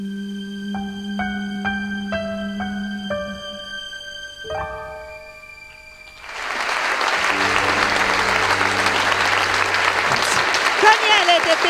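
Audience at a 2011 pop-rock festival in Montalto Uffugo breaks into loud, dense applause after a song's final notes fade, the clapping swelling and holding strong for several seconds.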